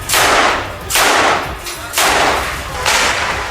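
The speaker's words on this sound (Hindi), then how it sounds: "इस दौरान उन्होंने कई राउंड फायरिंग की।" Rifle gunfire from Israeli soldiers in combat against a Hamas position: several loud, sharp bursts of shots in quick succession, each followed by a ringing echo, close and dominant with no voices.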